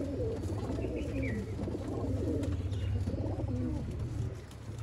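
Breeder pigeons coo in a low, continuous layered murmur throughout, with soft throaty calls overlapping at close range and a faint higher chirp now and then.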